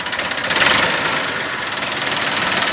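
A Ford tractor engine idles outdoors at a fair, with a steady, fast, chugging diesel rumble and a rhythmic knock, fairly close, without speech.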